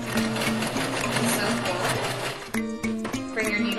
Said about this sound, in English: I'm just going to go ahead and sew a square on them that gives them a little bit of extra reinforcement